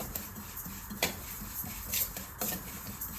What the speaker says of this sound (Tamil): இப்போ எள்ளு நல்லா வெடிச்சு வருது